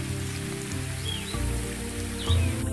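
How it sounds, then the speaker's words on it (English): Rain pours down across wild impala country after a long dry spell, a steady broad hiss over a low rumble, with a few faint bird whistles rising above it. "The rain very quickly brings a close to the seemingly incessant days of heat"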